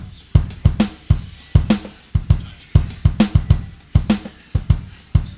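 A drum kit built from various samples plays a steady groove alone, punchy kicks and snares repeating in a regular pattern with short, crisp decays.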